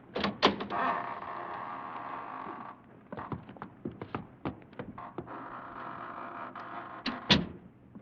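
A creaking door slowly opens in a dramatized mystery scene, with drawn-out groaning and scraping broken by knocks and clunks, fairly close and without speech.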